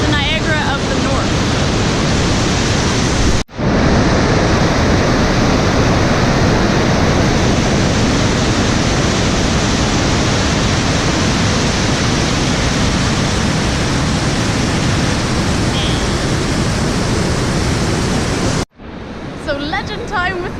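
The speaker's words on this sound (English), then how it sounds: "So we're here at Kakabaka Falls" Kakabeka Falls, a powerful waterfall near Thunder Bay, Ontario, roars as a loud, steady broadband rush throughout, with brief breaks near the start and end.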